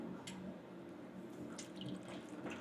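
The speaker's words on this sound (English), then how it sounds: "I am literally going to stir, stir, stir, and pour that in" Liquid is poured and stirred to make gravy for a roast chicken dinner, giving a soft, steady watery trickle and faint sloshing with occasional light clinks, quiet and without talk.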